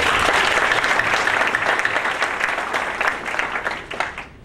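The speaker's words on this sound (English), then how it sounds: "Let's give them one more round of applause" An audience applauds companies honored for their United Way campaigns, a dense, even round of clapping from a sizable crowd that holds steady and tapers slightly toward the end.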